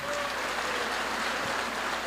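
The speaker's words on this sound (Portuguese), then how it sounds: "aplauda a Deus" A church congregation applauding during a sermon, a steady wash of clapping that fills the room at even strength, with faint sustained tones beneath it.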